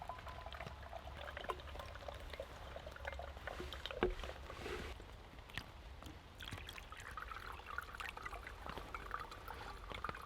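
Water is slowly poured and topped up into a single-use survival filter from a survival tin while camping in heavy rain, a soft steady trickle and splash close by over a constant hiss of rain.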